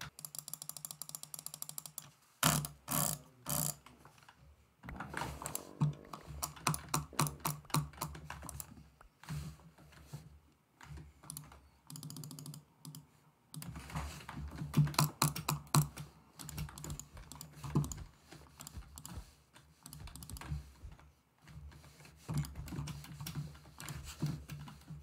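Computer keyboard typing during a Minecraft Bed Wars match, close and crisp, with dense bursts of rapid clicky keystrokes separated by short pauses and occasional sharp clacks, no talking.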